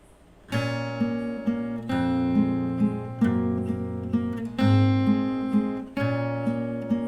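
Solo fingerstyle acoustic guitar plays a song with melody and bass parts combined, a steady stream of plucked notes and ringing chords, close and clear with no voices.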